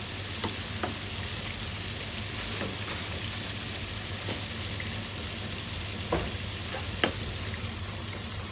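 Prawns fry in a pan for a Kerala-style prawn masala as the pieces are turned over. A quiet, steady sizzle runs throughout, broken by a few soft ticks and scrapes as the prawns are moved. No one speaks.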